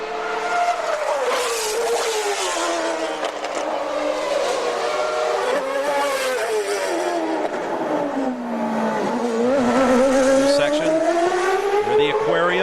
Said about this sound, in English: Up through the gearbox, 7 speeds to 188 miles an hour.